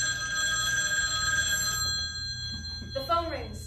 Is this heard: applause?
no